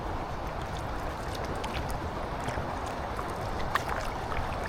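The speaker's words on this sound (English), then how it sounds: "Anyway, we're paddling back now," Paddling a paddleboard on the River Dee gives a steady wash of moving water with faint splashes and trickles, close and continuous.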